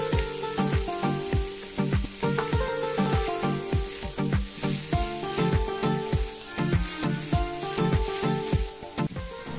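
Carrots and minced chicken frying in a pan after sautéed onion, a loud continuous sizzle broken by rhythmic scraping strokes as the mixture is stirred, close up with no talking.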